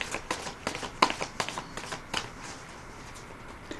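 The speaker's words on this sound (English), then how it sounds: "Let me shuffle a little bit." Tarot cards riffle and slap together in quick, light bursts, a close rapid shuffling that softens and trails off toward the end.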